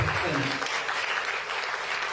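Audience clapping at a political gathering, a steady dense wash of applause lasting the whole stretch at moderate level, with some voices mixed in.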